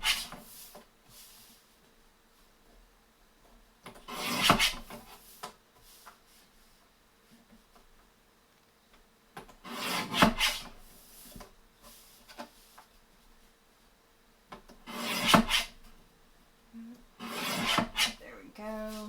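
Paper being trimmed for a craft folio gives four separate bursts of rasping cuts spaced a few seconds apart, with quiet handling noise in between.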